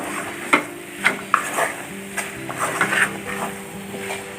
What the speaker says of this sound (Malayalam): അപ്പോൾ നമ്മുടെ ചിക്കനിലേക്ക് ആ ഗ്രേവിയൊക്കെ നന്നായി ഒന്ന് പിടിക്കുന്ന വരെ നന്നായി ഒന്ന് ഇളക്കി കൊടുക്കുക